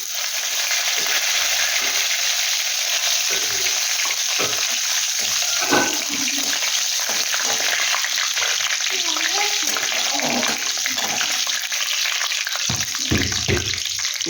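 Curry leaves hiss and crackle in hot oil with cumin, a steady loud sizzle for the whole stretch, with faint scraping and clinks of a spoon underneath.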